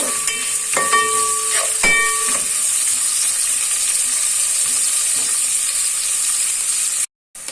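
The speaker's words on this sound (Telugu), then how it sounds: "కొంచెం ఫ్రై చేస్తున్నామండి, కొంచెం లైట్గా ఉప్పేస్తున్నానండి త్వరగా ఫ్రై అవ్వడం కోసం" Onions frying in a pan with a light sprinkle of salt for coconut rice, a loud, continuous bright sizzle with a few clinks of stirring early on, ending in a brief silence.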